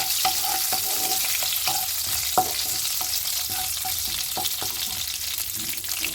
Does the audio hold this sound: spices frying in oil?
yes